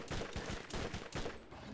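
Gunfire in the video game Borderlands: a rapid burst of several sharp, punchy shots in quick succession, close and loud, with no talk over it.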